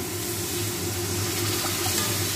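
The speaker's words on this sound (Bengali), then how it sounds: "বন্ধুরা এর মধ্যে আন্দাজ মতন জল দিয়ে দেবো" Water pours steadily into a pan of jackfruit kofta gravy, a continuous close rushing flow with no pauses.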